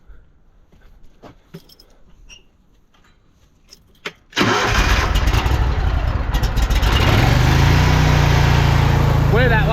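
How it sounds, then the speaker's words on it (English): A drain jetter's engine sits idle during quiet shuffling and light clicks, then fires up suddenly. It settles into a loud, steady, close running roar, at a job clearing a root-blocked drain. "let's go fire up the jetter"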